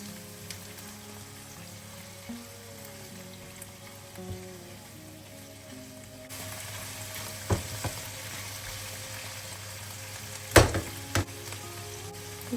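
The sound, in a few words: chicken with spices and tomato sauce sizzling while stirred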